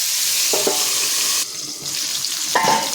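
Spice paste sizzling with cauliflower and egg in an oiled pan, a steady close hiss with a couple of brief scraping stirs and a moment where the sizzle dips as if covered.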